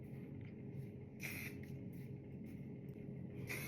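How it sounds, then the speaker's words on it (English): Several short bursts of spray wax mist onto curly, wavy hair, each a brief soft hiss spaced apart over a quiet background. "Apply some spray wax, tame down any of those baby or frizzy hairs."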